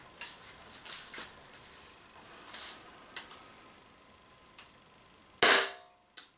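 An Umarex Walther PPQ M2 air pistol fires at a hanging tin can, giving soft scattered clicks and faint ticks before one sharp, loud crack near the end.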